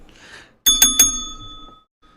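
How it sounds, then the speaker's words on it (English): A small bicycle-style bell struck three times in quick succession, bright close rings that blend and then decay into a lingering metallic tone, following a moment of quiet. "Hit the fucking bell."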